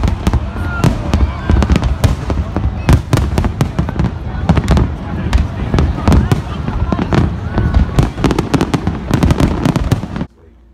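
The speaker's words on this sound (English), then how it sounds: "It's Independence Day and we're going to see some fireworks." Loud Independence Day fireworks in New York City burst again and again in rapid, irregular succession, a dense volley of booms and cracks that stops abruptly near the end.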